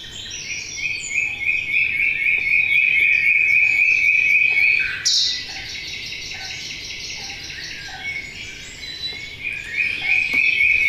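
Nightingale song mixed with a dawn chorus, recorded in the grounds of a house and played back loud: bright, steady phrases layered over dense chirping and whistling that runs continuously, with no talk.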